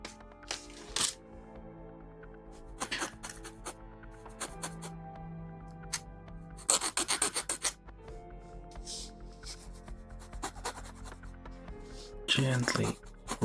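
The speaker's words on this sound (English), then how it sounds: "Gently rub those. Like, this is just a plain old metal file." A plain metal file rubs and rasps against small plastic Gundam model kit parts for a 1/144 HG Bandai build, giving scattered short scratchy strokes and clicks, close and fairly quiet, while a person talks throughout.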